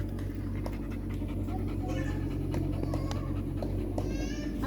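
Rapid, steady panting from a dog in the heat, close by, running throughout with a low constant background hum and a few faint clicks.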